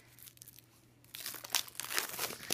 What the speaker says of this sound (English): let's get this out of the cellophane wrap.